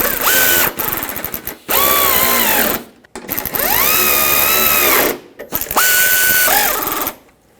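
Power drill driving the three mud flap screws into plastic clip inserts on a 1995-2004 Toyota Tacoma, in several loud whirring bursts with rising and falling pitch and short pauses between them.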